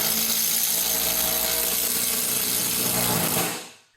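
A Ryobi cordless impact driver with a fully charged 2 amp hour battery runs a timed performance test, giving a continuous, loud, close whine that holds steady for several seconds before winding down and stopping.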